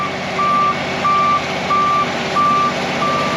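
A road grinder reverses on a highway stretch, its backup alarm sounding five evenly spaced beeps over a steady, loud engine rumble.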